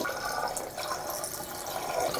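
Water runs from a tap fed by a building's self-built alternative water supply system, a steady close rushing flow with a faint dripping edge, lasting the whole moment without talking.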